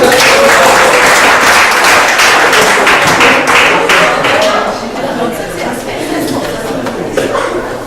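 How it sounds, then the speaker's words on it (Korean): An audience claps at a university departments' joint stage performance, the loud, brisk applause mixed with voices and chatter before easing slightly toward the end. "박수"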